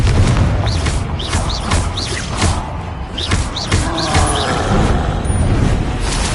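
Confringo fire-blast spells in the video game Hogwarts Legacy burst repeatedly, a string of loud booming thuds and whooshing impacts over a dense, constant game soundscape of combat noise.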